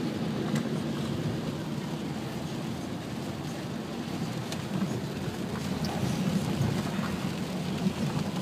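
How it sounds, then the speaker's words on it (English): Steady rain falls throughout while riding in a car, a continuous broadband wash of drops with low road rumble underneath, moderately loud and unbroken, no clear voices. "It's raining."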